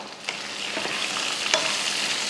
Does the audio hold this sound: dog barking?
no